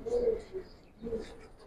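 Giribaz pigeons kept confined in a loft give two short low coos close by, each under a second, separated by a brief pause.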